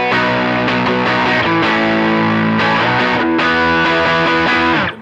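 Electric guitar with a Timmy overdrive stacked on a Tube Screamer in an HX Stomp, with loud, saturated chords strummed and sustained in a few phrases, heard alone.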